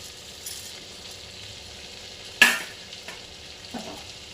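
Whole garam masala of cinnamon, cardamom, cloves and black peppercorns sizzles in hot oil, with a sharp crackling burst as the spices hit the pan amid faint stirring.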